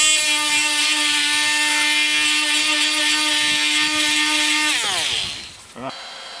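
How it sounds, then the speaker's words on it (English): A power sander whines at a steady high pitch while sanding a plastic Windrider Rave pontoon, then winds down and stops near the end. "Just a quick sand."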